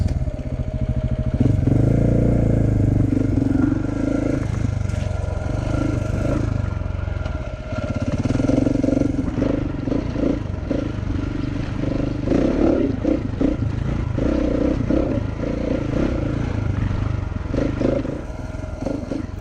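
A KTM 690 dirt motorcycle with newly reworked suspension rides a trail, its single-cylinder engine droning steadily with repeated throttle surges and clattering over bumps, close and loud throughout.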